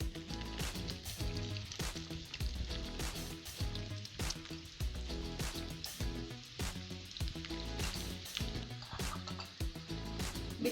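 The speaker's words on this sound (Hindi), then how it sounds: "बिल्कुल हल्की आंच पर इसको फ्राई करना है।" Chicken paratha roll spread with cheese, rolled and frying in a pan with a little oil over low heat, giving a steady crackling sizzle with dense popping throughout, close and continuous.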